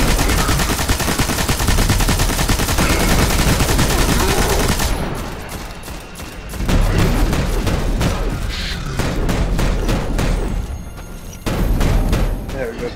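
Gunfire in the video game Destiny during the Winter's Run strike. Dense, loud automatic fire and booms keep going almost without a break, with brief dips in between. A player talks over the shooting.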